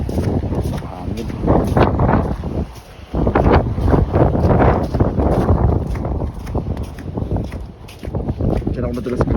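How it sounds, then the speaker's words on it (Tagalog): Strong wind buffets the microphone at a beach in Japan, a loud, gusty roar that rises and falls over several seconds, broken by brief clicks and a person speaking. "Hangin."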